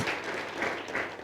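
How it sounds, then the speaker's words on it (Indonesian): An audience at a church service claps briefly, a soft, dense patter of hands heard alone. "ya boleh beri tepuk tangan"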